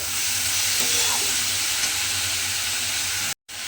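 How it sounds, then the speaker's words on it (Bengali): Banana flower frying in a pan, a loud, dense and continuous sizzle with faint stirring movements underneath, close by and unbroken apart from a momentary cut near the end. "মোচাটা দিয়েও কিন্তু আমি এইভাবে একটু ভাজা ভাজা মতো করে নেব।"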